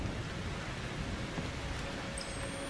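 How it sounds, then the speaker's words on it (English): Steady rain of blood falling in Outlast 2, an even, hissing wash of downpour with faint low rumbles beneath, constant and fairly loud throughout. "is it actually fucking raining blood?"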